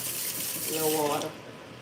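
A kitchen tap runs steadily into a sink while cooking, a close continuous rush of water that cuts off abruptly near the end.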